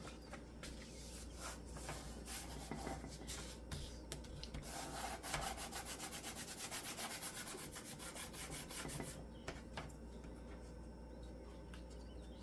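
A large LePage's glue stick rubbed back and forth across paper, giving a steady, close, soft scraping texture that runs for several seconds, with no talking.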